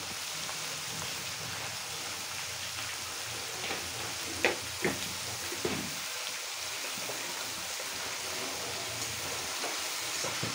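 Chow mein vegetables (capsicum, beans, cabbage, onion and tomato) frying in a pan, giving a steady, fairly faint sizzle with a few brief clinks of stirring partway through.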